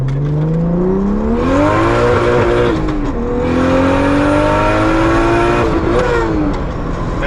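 Built turbocharged BMW E36 accelerating hard from inside the car, engine climbing loudly through the revs, dipping at two gear shifts, then pulling up again.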